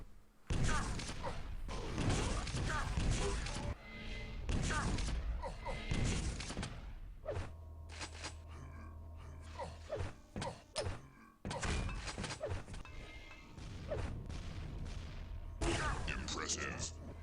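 Dense bursts of rocket fire and explosions in a CPMA duel video game, loud and continuous with brief gaps, along with creaking and thudding game effects and some commentator talk over them.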